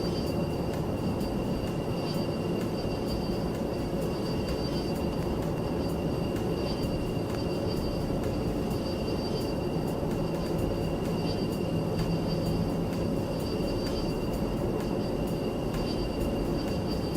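Aircraft engines in the Three-D Velocity flight simulator game make a constant, dense roar with a faint high whine, holding at an even level throughout with no talking.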